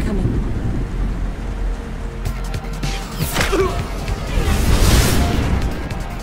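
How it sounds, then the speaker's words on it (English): A thunderstorm with loud rumbling thunder, rising in bursts over a steady wash of heavy rain, the crashes swelling in the second half. "There's a storm coming."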